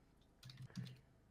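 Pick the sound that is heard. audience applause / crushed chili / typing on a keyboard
typing on a keyboard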